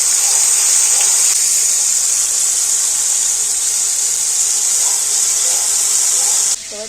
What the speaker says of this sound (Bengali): একটু অল্প অল্প করে মাছগুলো ভেজে নিতে হবে